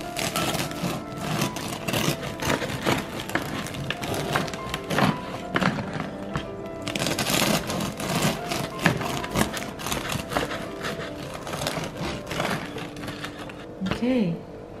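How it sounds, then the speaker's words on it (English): A knife saws through a crusty, freshly baked artisan loaf, giving steady crackling, crunching strokes with a brief voice near the end. "so we're going to cut the bread now."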